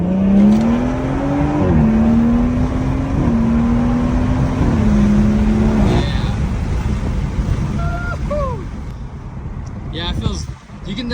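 A BMW 340i with a B58 engine and an upgraded B58TU pump pulls hard at full throttle from inside the cabin, a steady loud drone rising in pitch through several gear changes before easing off.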